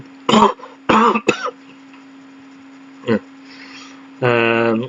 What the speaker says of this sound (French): Je tousse beaucoup ce soir.